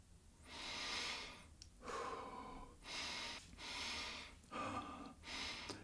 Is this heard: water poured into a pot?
no